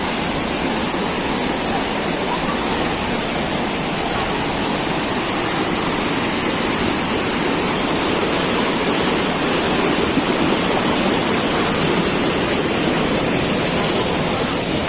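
A large volume of river water rushing at Lubuk Kudo, a loud, steady roar with no break throughout.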